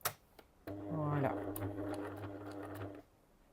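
A sewing machine stitches a few quick stitches through imitation leather for a glasses pouch, a short mechanical whirring burst after a couple of clicks, close by and moderately loud.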